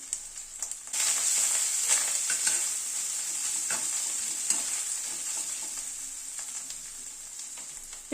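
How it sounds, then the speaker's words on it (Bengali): Chana dal and shrimp with turmeric being stirred in a pan, a steady close sizzle and frying hiss with scraping stir strokes running throughout, no voices. "সব কিছুকে একসাথে একটু নাড়াচাড়া করে নিচ্ছি।"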